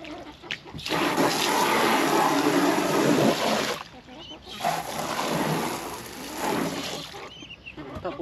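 Water rushes and splashes in two long bursts while the birds' backyard drinking container is emptied and refilled, loud and close, with short pauses between pours.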